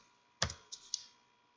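A few quick keystrokes on a computer keyboard while typing a short game command, three soft close clicks within about half a second in a quiet room.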